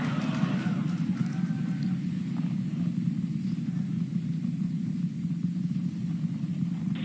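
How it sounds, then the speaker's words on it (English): Super Heavy booster of a SpaceX Starship on its fourth launch, 32 of 33 engines lit, climbing toward max Q: a steady, dense low roar with constant rumble and no speech over it. "We're seeing 32 out of 33 engines lit on the Super Heavy right now."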